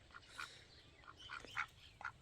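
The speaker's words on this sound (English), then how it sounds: "There's old Limpy, the Drake" A drake on a homestead gives several short, faint quacks spaced irregularly, heard from a distance against quiet outdoor background with no talk.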